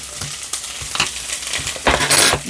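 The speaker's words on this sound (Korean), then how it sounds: "양배추와 양파가 볶아줍니다." Cabbage and onion stir-fried in a pan for spicy octopus stir-fry, a close sizzle with scraping stirs and a louder burst of frying near the end.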